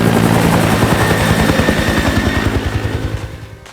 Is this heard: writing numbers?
no